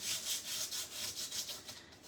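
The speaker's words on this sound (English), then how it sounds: "And then I just take an emery board." An emery board is rubbed back and forth across an embossed paper surface, making close, steady, rhythmic rasping strokes with about ten even passes and no talking.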